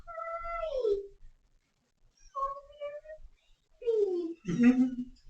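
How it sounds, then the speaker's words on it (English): Small kittens give a few short, high, sliding meows in close succession, clear and near, separated by brief pauses. "they're all very good little kittens"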